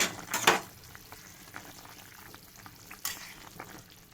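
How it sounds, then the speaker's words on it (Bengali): Fried spice paste of cumin, coriander and dried chilli hits a hot curry pan, giving a brief loud sizzle near the start, then quiet frying crackle with another sharp burst of sizzle later. "পেস্ট করা হয়েছে, এখানে দিয়ে দেওয়া হলো ভাজা মশলা।"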